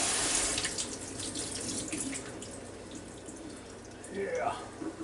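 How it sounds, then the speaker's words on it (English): Tap water runs steadily into a kitchen sink while raw oysters are rinsed, with a continuous splashing rush that dips and then swells again near the end. "Now I'm going to wash these nice looking oysters off."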